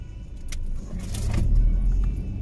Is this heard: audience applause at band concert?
no